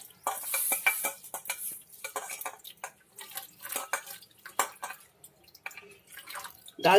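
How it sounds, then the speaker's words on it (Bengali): Dal lentils are washed in a bowl of water, producing irregular splashing, swishing and dripping sounds with bursts of sloshing, close and fairly loud. "এবার ভালো করে ধুয়ে নেব ডাল"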